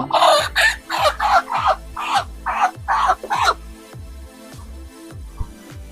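Broiler chickens cluck and squawk in a rapid run of about eight loud, close calls, then fall to quieter, sparser clucks with machine hum underneath.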